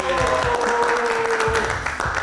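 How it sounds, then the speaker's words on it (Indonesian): Studio audience applause for a guest on a late-night live show, steady clapping carrying over a sustained musical tone, fairly loud and continuous. "tepuk tangan untuk Otong Setiabudi"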